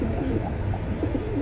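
Pigeons in a Bangladeshi pigeon seller's collection of Pankhi Military pigeons coo softly and continuously, a low throaty burbling close by.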